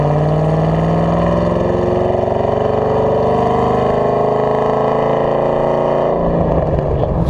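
A 2012 Chevrolet Camaro ZL1 with long-tube headers, an aftermarket intake and an exhaust that is essentially a straight pipe, rumbling loudly and steadily up close for about six seconds before the tone breaks up and drops away.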